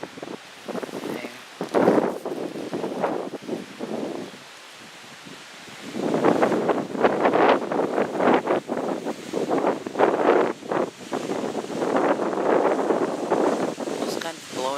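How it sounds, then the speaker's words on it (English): Strong hurricane wind gusts through a residential side yard during Hurricane Matthew, rising and falling in long rushing bursts with a quieter lull midway, loud and close with microphone buffeting. "Just kind of blowing around here today."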